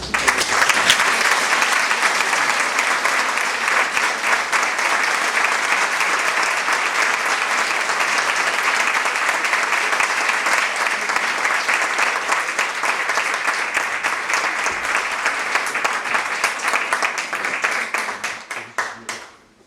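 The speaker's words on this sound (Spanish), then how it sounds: "Quero tamén un aplauso para os técnicos que fixeron isto." Sustained applause from a theatre audience honouring the technicians at a centenary celebration of Teatro Artesán, a dense, even roar of many hands clapping close and loud for nearly twenty seconds before tapering off at the end.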